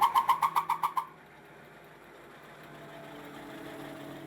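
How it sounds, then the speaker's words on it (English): A vintage charabanc coach engine sounds a rapid train of about eight sharp whistle toots from its exhaust whistle, one per compression stroke, then the whistling stops and only a quiet, steady idling hum carries on. "It has an exhaust whistle connected to the engine, so every time it comes up on a compression stroke, it blows a whistle"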